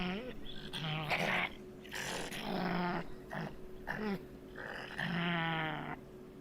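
Strange raspy, whining calls of a raccoon dog repeat in short bursts, some growl-like and some bleating, close and fairly loud with brief pauses between.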